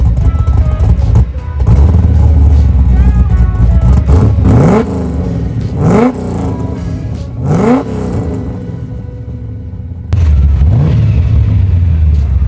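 A Holden VK SS with a 308 V8 fires up and revs hard, loud and close, with several sharp rising throttle blips and a steady rumbling idle between them.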